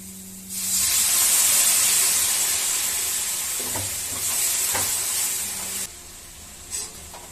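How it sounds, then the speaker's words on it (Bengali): Warm water poured into a hot pan of frying masala with onion for a prawn curry, giving a loud sustained hiss and sizzle that surges, holds for several seconds, then drops back to a softer fry. "এর মধ্যে একটুখানি এবার উষ্ণ গরম জল দিয়ে দিচ্ছি"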